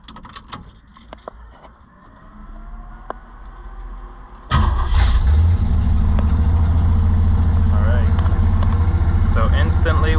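A 1974 Chevrolet Nova with a TH350 transmission cranks and starts, settling into a loud, steady, close idle after some keys rattle.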